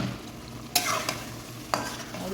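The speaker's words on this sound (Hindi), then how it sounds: "अब इसमें हम पोटे शामिल करेंगे" Chicken gizzards being stirred into softened cooked tomatoes in a pan, with two distinct scraping stirs over a soft continuous sizzle, heard close and with no voices.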